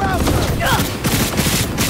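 Rapid, dense gunfire rattles through a Cyberpunk 2077 firefight, loud and continuous for the whole moment, with game voices over it.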